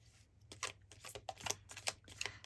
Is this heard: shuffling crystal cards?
yes